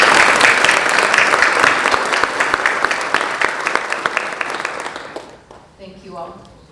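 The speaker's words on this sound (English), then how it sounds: "Can you help me give them a round of applause?" Audience at a foundation grant celebration in a performing arts center applauding the board members, loud crowd clapping with distinct individual claps that thins and dies away, followed by a voice speaking.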